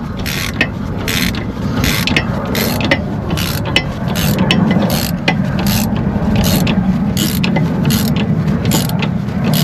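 A wrench or ratchet works a strut nut on a Dodge Journey during front strut replacement, a close, loud run of rapid clicking pawl ratchets with metallic rubbing over steady workshop noise.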